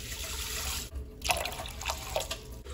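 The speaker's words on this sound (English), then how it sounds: "So you are going to put that in the pot and then add 3 cups of water." Water poured into a pot holding dried elderberries, a short close stream with a few bright splashes and drips, moderately quiet with no talk.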